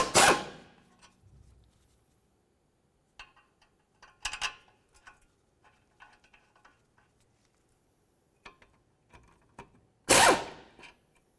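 A 17mm socket wrench loosens the caliper bracket bolts on a 2002–2006 Honda CR-V during a wheel hub replacement, heard as scattered close metallic clicks and scrapes, with sharp louder clanks at the start and near the end.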